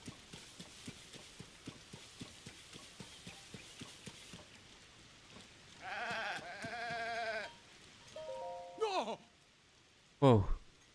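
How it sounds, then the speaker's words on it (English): Goats in the video game Zelda Tears of the Kingdom let out a few loud, wavering bleats near the end, after a stretch of soft rhythmic footsteps and faint rain, with no one talking. "Those are my white goats. So this is where they ran off to."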